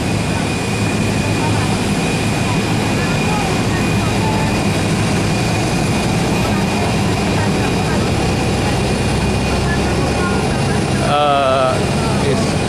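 Jet and propeller airliners at Yogyakarta's Adisucipto airport give a steady, loud engine drone with a high whine throughout, and a brief warbling tone near the end; people talk nearby.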